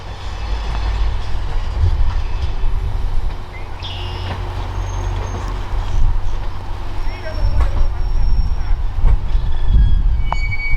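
A long passenger train, the Canadian, of over 20 cars rumbles past out of Toronto steadily with a low continuous roar, occasional wheel squeals and clanks, while a voice talks over it.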